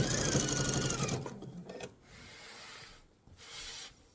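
A sewing machine stitches a seam on a mesh tote bag, running loud and continuous at first, then stopping and restarting in shorter, quieter bursts with pauses between them.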